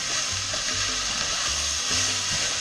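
Ground beef browns in olive oil in a pan for chili, producing a steady, close sizzle with soft stirring scrapes and a low hum underneath, and no one speaking.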